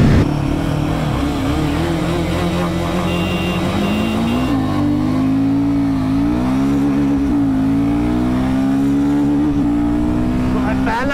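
A KTM Duke 390 motorcycle accelerates hard in a drag race against a Royal Enfield Himalayan 450, its engine note rising in pitch through the gears with brief dips at each shift, loud and close over wind noise.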